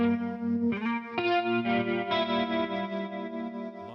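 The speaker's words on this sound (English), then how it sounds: "I chose this chorus, and I'm adding, for the same purpose, a plate reverb to make the guitar shine a little bit more" A sustained electric guitar chord rings out through a Matchless Laurel Canyon amp capture with chorus and plate reverb, strummed a few times with shimmering, lush tails and no voices.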